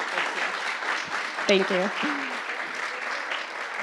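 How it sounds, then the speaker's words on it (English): Audience applause for a woman hiker at a TV show taping, steady clapping throughout with a short spoken thanks in the middle. "give her a round of applause"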